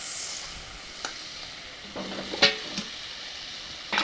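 Cauliflower and potato pieces are stirred into a hot, fried spice paste, giving a soft continuous sizzle broken by a few sharp scraping and clinking strokes of the spoon against the pan.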